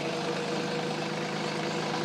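A Summit TX25H compact tractor diesel engine idling steadily after an oil change, a constant close rumble with an even low throb and no breaks.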